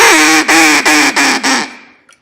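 A duck call blown in a loud, rapid series of five excited quacks, close and alone, fading into a short tail.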